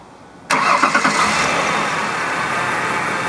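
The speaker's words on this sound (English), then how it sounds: "So I'm going to go start the car with these attached" A car engine cranks and catches abruptly, jumping from near quiet into a loud, rough roar that settles into a steady idle. A multimeter is clipped to the battery while the car starts.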